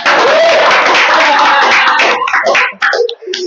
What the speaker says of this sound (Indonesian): berarti tepuk tangan untuk Godok Kritian